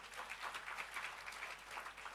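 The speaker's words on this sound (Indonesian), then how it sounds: "Tepuk tangan yang meriah buat Tuhan" Faint, steady applause from a church congregation during a sermon, a dense patter of clapping that continues evenly throughout.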